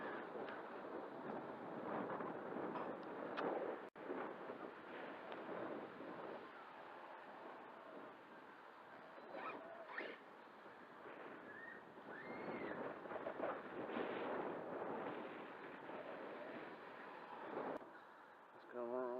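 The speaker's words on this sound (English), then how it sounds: "so windy today. Like gale force winds." Strong gusty gale-force wind roars and buffets the microphone continuously in an open park, with muffled voices talking underneath at times.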